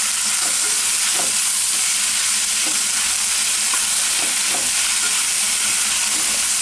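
Tomatoes with onion and ginger-garlic paste sautéing in a nonstick pan, a steady close sizzle with occasional soft scraping stirs, no voices.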